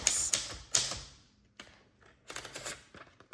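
Manual typewriter: the line spacing lever and carriage mechanism produce a few sharp clacks and ratcheting clicks, followed after a pause by a quicker run of mechanical clatter, all close and loud with no voices.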